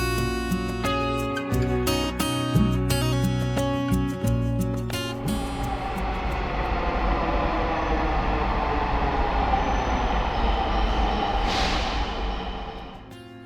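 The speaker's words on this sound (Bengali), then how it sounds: "প্রায় 30 মিনিট পর ট্রেন চলে আসলো।" Dhaka metro train pulling into the station, a steady loud rumble of wheels and motors building over several seconds, with brief metallic clanks early on and a short hiss near the end, no talking.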